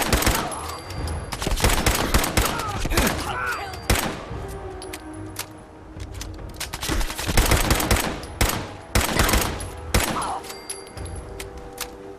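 Gunfire in Fallout 4: dense bursts of rapid automatic shots and sharp single cracks, loud and close, with brief lulls between volleys and occasional thuds.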